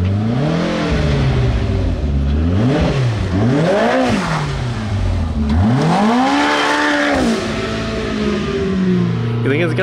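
A snowmobile engine, a Yamaha VMax 4, roars loudly up and down through repeated revs and accelerations during a drag run, with a steady, close, powerful whine throughout.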